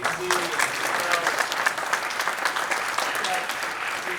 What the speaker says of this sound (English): Give one more round of applause to Elan and I.